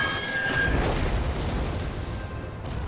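Artillery shells burst against a mountainside in the World War One strategy game NTW: The Great War, a rumbling, continuous wash of distant booms and blasts with faint whistling tones.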